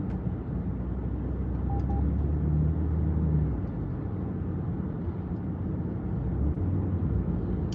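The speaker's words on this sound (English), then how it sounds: "That little bleep, if you heard it, it's just the sat nav telling me that there's a speed camera up here in a bit." A car's sat nav gives a short double beep warning of an upcoming speed camera while driving out of Portsmouth in the UK. The beep is quiet and brief over a steady low road and engine rumble.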